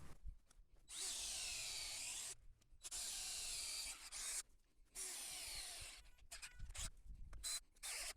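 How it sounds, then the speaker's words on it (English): Power drill boring holes into a black walnut tree stump, several bursts of grinding whir separated by brief pauses, fairly faint and close, with scraping and handling noises between bursts. "So now I'm gonna go ahead and drill these holes out"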